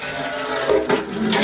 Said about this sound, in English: I'm going to run the hot water.